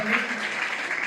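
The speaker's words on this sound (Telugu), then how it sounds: "అందరూ కూడా కనపడంతో చప్పట్లతో స్వాగతం పలుకుతున్నామండి" A crowd claps together to welcome guests at a public gathering in Palnadu, a dense steady patter of many hands, with a voice speaking over it.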